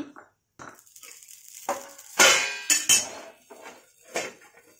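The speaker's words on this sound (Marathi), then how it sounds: "2 चमचे खसखस भाजून घ्यायची" Dry poppy seeds tossed on a hot griddle give scattered clinks and scrapes of metal utensil against the pan, with irregular louder clatters and faint sizzle between, close by with no talk.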